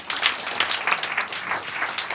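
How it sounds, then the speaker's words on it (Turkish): A quiz night audience applauds a team: dense, steady clapping from many hands throughout, fairly loud and close, with no speech. "Gin Tonic'i de alkışlıyoruz."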